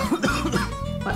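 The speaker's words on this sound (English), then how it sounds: "someone behind you just starts coughing" A single harsh cough bursts out close by, a couple of rough expulsions in quick succession.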